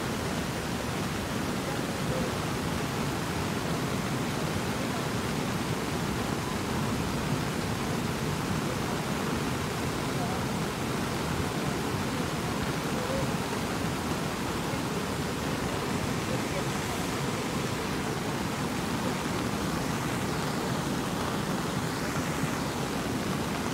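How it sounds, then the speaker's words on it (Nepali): Floodwater from a swollen stream after an hour of heavy rain in Dharan, rushing in a loud, steady, unbroken roar that fills the whole scene with no pauses. "कत्रो निशानेले बगाएर ल्याइरहेछ क्या"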